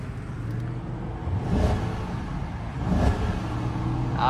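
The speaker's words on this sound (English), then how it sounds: "Let me give you like a couple of revs." A 2012 Audi A8L engine revs in two quick blips that rise above a steady nearby idle, with no talking.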